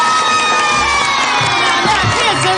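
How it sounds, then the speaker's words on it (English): A crowd of children cheers and shouts excitedly, a loud, dense wall of high voices that holds unbroken for a few seconds. "Now, kids, there's no need for all this excessive cheering."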